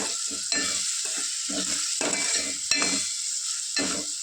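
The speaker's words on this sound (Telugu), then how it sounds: "ఇలా ఒక త్రీ మినిట్స్ వేయించాలని చెప్పారు" Spiced food frying in a pan with chilli powder, a continuous bright sizzle with a rhythmic series of stirring scrapes and clacks close by.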